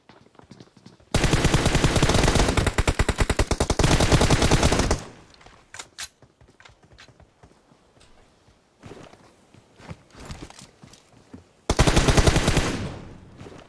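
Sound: gunfire in a battle royale video game

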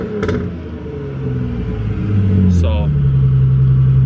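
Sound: Ford Mustang with custom exhaust revving

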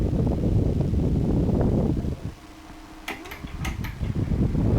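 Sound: repaired electric fan running at speed setting

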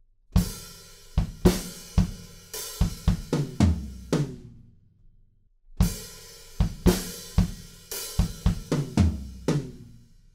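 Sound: drum fill played on a drum kit

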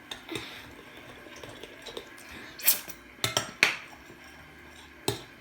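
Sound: stirring homemade slime in a bowl with a spoon

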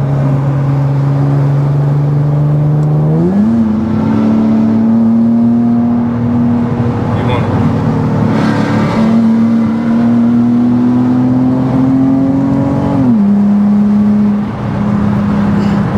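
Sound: tuned 400hp Infiniti G37 engine accelerating

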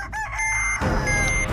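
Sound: chicken clucking behind a door in a video game

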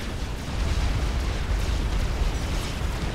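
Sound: area effect bomb exploding in a strategy video game

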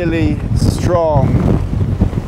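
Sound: strong gusts of wind on an exposed campsite

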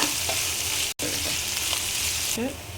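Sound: sautéing in a pan with salt, chicken perattu

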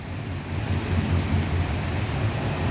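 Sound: rain and thunder

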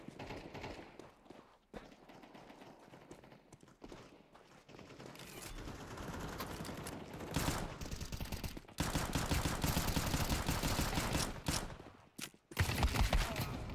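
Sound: gunfire in the video game Counter-Strike 2

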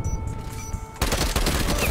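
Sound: gunfire in the Call of Duty Cold War video game

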